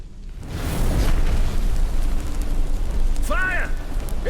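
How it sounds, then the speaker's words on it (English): Fire bursting into flames in The Witcher 3, a loud roaring whoosh that swells and holds steady, with a short shouted voice near the end. "The flames! Douse the flames!"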